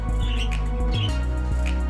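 Pet cockatiels giving short sharp squawks and chirps over a loud, steady low mechanical hum, the calls scattered and fairly faint against the drone.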